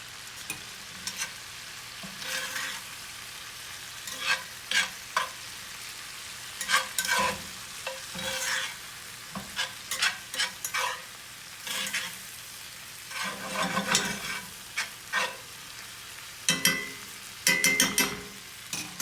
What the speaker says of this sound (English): Now I'm going to wilt those leaves of butter lettuce in here